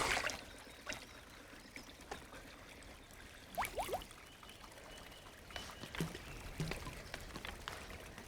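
Water pours and trickles in soft, faint splashes while a character drinks in the mountain-climbing video game Cairn, with a few brief gurgles and splashes partway through.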